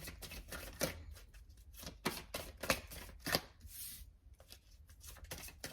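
A deck of cards is shuffled for a card reading, giving quiet riffling bursts and soft slaps that come in short irregular groups, close and faint in a calm room.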